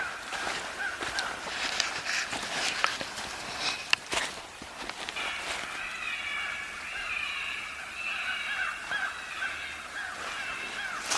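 A small bird tangled in fishing line by a winter creek screams in repeated shrill cries, fairly faint and at a distance, with footsteps shuffling nearby.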